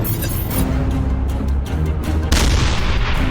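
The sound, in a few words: tank cannon fire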